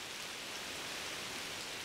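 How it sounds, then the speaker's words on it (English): Heavy rain falling outdoors in Šumava National Park, a steady, even hiss of downpour with no other sounds, fairly quiet and unbroken throughout. "One day it rained really heavily."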